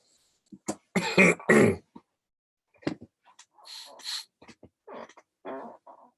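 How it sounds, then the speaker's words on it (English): A handful of close, quiet coughs and throat-clearing bursts from a person with a mild cough, coming in an uneven cluster and then scattered short sounds amid silence. "So I've got a bit of a cough right now"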